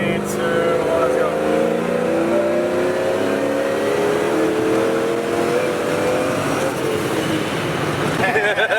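A single-cab pickup truck engine revs hard and climbs in pitch as it accelerates, loud and close, with a roaring, strained tone.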